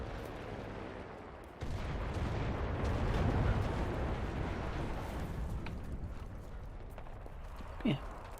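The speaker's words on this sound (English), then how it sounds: "Grenade." A grenade blast in the video game Enlisted, a loud broad rumbling explosion that kicks in abruptly and rolls on for several seconds amid battlefield noise, with a brief voice near the end.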